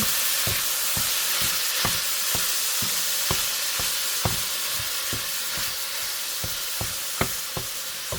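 Ground turkey frying in avocado oil in a pan, a steady close sizzle with repeated sharp scrapes and clicks of stirring scattered throughout.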